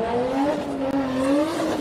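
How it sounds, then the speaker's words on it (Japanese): Nissan Silvia S15 drift car beginning a practice run at a Formula Drift Japan test session, its engine revving loudly and steadily with rising and falling pitch. "号シルビアがスタートをしてまいります。"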